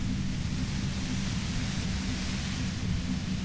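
A dense, unbroken white noise hiss from the video game Disco Elysium, steady and even in level with a heavy low rumble underneath, no breaks or other sounds.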